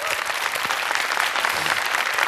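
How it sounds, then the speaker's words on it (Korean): Loud, dense applause from a talk-concert audience fills the whole stretch, steady and close, with no voices over it. "박수 부탁드리겠습니다."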